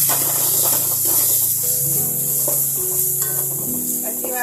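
Ginger garlic paste and coriander powder fry in a pan for moong dal khichdi, giving a loud, steady sizzle and hiss throughout, with scraping stirring noises and faint background music.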